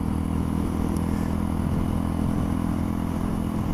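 A 2018 Mutt Mongrel 250cc motorcycle engine runs at a steady, loud drone with a low throbbing hum, holding an even pitch without revving for the whole stretch.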